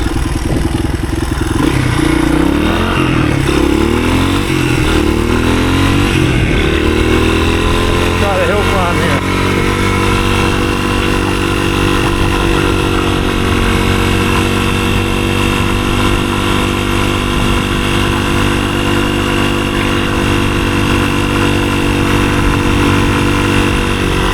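A 1983 Honda XR200R dirt bike climbs a hill in third gear, its single-cylinder engine loud and close, first revving and shifting pitch, then settling into a steady pull under load.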